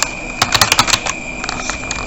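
Quick bursts of keystrokes on a computer keyboard, a cluster of close, crisp clicks followed by a few scattered taps against a quiet room tone.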